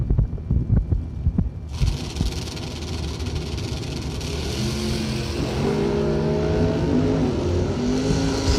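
Drag race cars, including a blue Chevy S10, rumble at the line and then launch, engines rising into a loud sustained roar with climbing revs that holds to the end.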